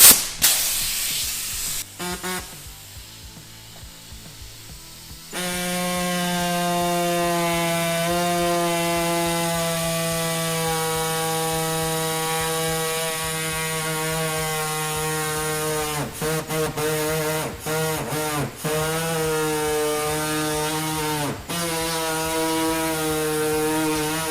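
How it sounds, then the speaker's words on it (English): A reciprocating body saw cuts metal on a Toyota Tacoma 3rd Gen, near the plastic fender liner, during a winch bumper installation. It starts with brief quieter handling, then a loud, steady high-pitched buzzing whine runs with a few short stops and restarts. "we're gonna finish it with this little body saw, just so I don't cut into this plastic fender liner"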